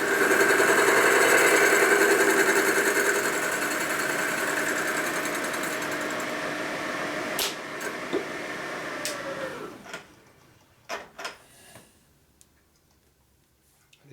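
A cutter machining through chrome on a Harley Shovelhead big-bore engine part gives a steady, loud whirring grind for about ten seconds, then winds down, leaving a few scattered metallic clicks and taps.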